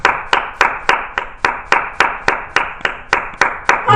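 A church congregation claps for Jesus Christ during a sermon, loud and close, in a steady unison rhythm of about a dozen sharp claps in four seconds, with no talking.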